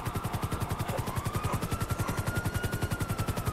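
Steady rapid rotor thumping of a helicopter in GTA 5, loud and continuous, with a faint whining tone drifting underneath.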